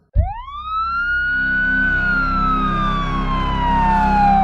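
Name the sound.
ambulance or police siren sound effect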